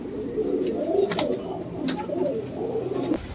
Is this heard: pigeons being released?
yes